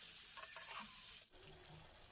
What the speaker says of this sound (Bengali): তো তেলের ওপরে আলুটাও ভালোভাবে আমি ভেজে নিচ্ছি